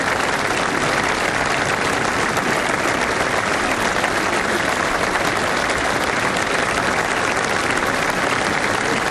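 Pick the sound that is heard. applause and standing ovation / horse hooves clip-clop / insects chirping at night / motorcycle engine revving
applause and standing ovation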